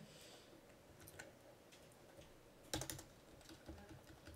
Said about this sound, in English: because that's a lot of typing